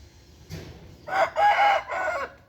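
A young Burmese fighting rooster crows close by, a loud, clear cock-a-doodle-doo of a few strained notes after a brief soft sound.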